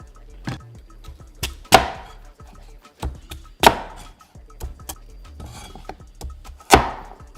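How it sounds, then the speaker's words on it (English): A knife chops vegetables, including onion, on a cutting board in irregular, sharp knocks, some louder strikes standing out, close by with no talking. "I just finished chopping up everything"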